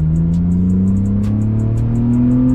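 A 2001 BMW E46 with an inline-six engine accelerating from 25 to 60 mph, a loud, close, steady engine drone whose pitch climbs smoothly as it pulls through the gear.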